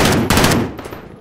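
Rapid bursts of video game gunfire, loud and dense, firing continuously through the short clip with no talk over it.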